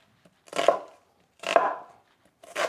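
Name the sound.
chopping onion with a knife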